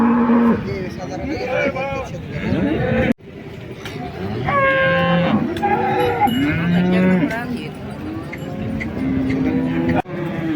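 Cows and calves at a village cattle market low and moo repeatedly, some nearby and loud, with others further off, among a busy crowd of people talking.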